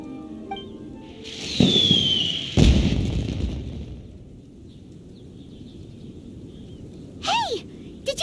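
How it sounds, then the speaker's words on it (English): Fireworks in Genshin Impact: two sharp booming bursts with crackling tails close together near the start, followed by quieter ambience and a brief whistling, squealing burst near the end. "Did you hear that explosion? Maybe it was fireworks."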